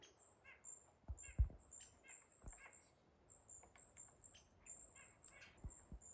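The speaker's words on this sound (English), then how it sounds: "It's an owl." Repeated high squawking calls from an owl in a winter forest in Tennessee, brief sharp cries recurring every second or so at moderate distance, faint against quiet woodland with occasional soft thumps and footsteps.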